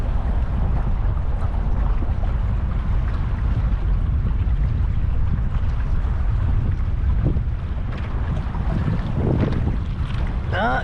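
A dual-engine boat runs on the Colorado River near Hoover Dam, a steady loud engine drone mixed with heavy wind buffeting the microphone throughout.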